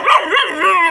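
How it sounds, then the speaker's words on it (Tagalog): Luna, a pet dog, gives a short run of close, loud whining barks and yips, rising and falling in pitch, with no other voices present. "Narito po ang aso ni Jessa, si Luna."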